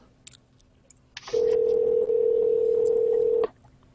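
A telephone rings out during a live call-in podcast, heard as a single loud, steady electronic tone lasting about two seconds and standing alone with no talk over it.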